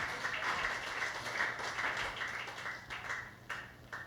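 Congregation at a Sunday church service clapping together, a steady wash of many hands at moderate distance lasting a few seconds without clear talk.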